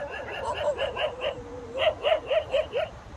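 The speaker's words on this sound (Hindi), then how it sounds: "देख कुत्ते भोग रहे" Dogs bark at Kalamb beach in a quick run of short, repeated yaps at moderate distance, a pause breaking the series midway before it resumes.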